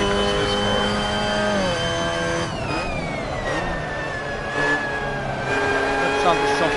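Engine of a Mazda MX5 race car in Assetto Corsa online racing on Black Cat County Short, a steady mid-pitched whine shifting down and rising again as it revs, with a commentator talking over it.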